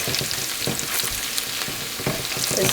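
Onion with ginger garlic paste sautéing for a red fish curry, a loud, close sizzle with rhythmic scraping and stirring strokes across the pan, no voices.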